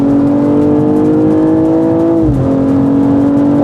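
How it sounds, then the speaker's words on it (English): BMW M240i G42 engine revving loudly from inside the car, its pitch climbing steadily before a quick drop at a gear change. The rise then resumes, with no talk over it. "it sounds nice when it changes gear"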